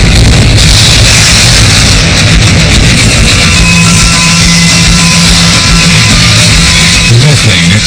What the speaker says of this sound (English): Methane explosion